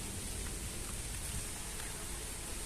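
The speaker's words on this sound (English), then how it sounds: "The rain is not stopping." Continuous rain pours in an outdoor nature area by a river research institute, a dense, unbroken hiss holding a steady level throughout.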